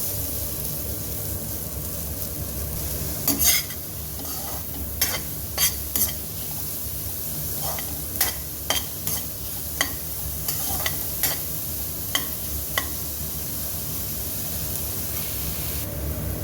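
Finely chopped onion frying in butter in a pan gives a steady, close sizzle, with scattered sharp clicks and scrapes of stirring throughout.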